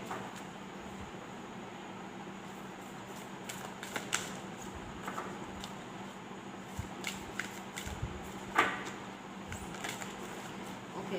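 Healing cards shuffled by hand for a card reading: a soft, continuous papery riffling with small clicks and flicks, close and quiet, alone without talk.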